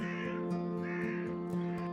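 A crow caws repeatedly in a steady rhythm of short, harsh calls, close and clear over a constant droning background, with no talk.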